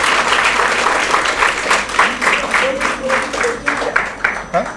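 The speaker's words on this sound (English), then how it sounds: "we should all give a round of applause to them" An audience applauds two young dancers after their first Bharatanatyam varnam performance on stage. Loud, dense clapping swells in waves, with voices and brief cheers mixed in as it gradually thins.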